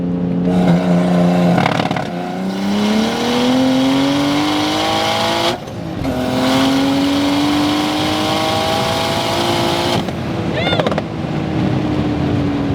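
Big-turbo BMW M3 with a manual gearbox pulls hard at full throttle, engine tone climbing steadily through rising sweeps with two brief gear-change breaks, loud and close from inside the cabin, with a faint voice briefly over it.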